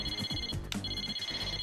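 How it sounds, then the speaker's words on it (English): Electronic phone ringtone from the video game Persona 4 Arena, a short repeating tonal ring sounding loud and steady over game music for under two seconds. "That happens to me every time my phone goes off."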